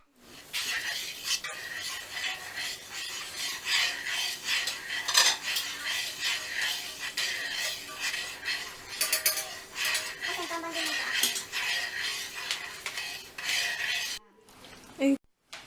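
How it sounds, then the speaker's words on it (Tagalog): A utensil stirs mango jelly mixture in a metal pot, making repeated close scraping and clinking strokes for several seconds before a brief pause near the end. "Haluin natin ang mga inuna natin kanina."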